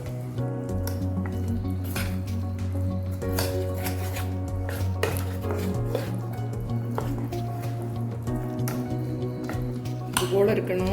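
Rava idli batter with chopped coriander leaves is stirred in a bowl, with a steady series of close metal scrapes and light clinks repeating over a constant low hum.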